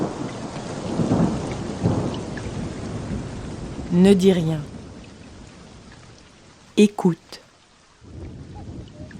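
Steady rain hisses throughout while thunder rumbles and cracks twice, loud and nearby; a voice speaks briefly over the storm.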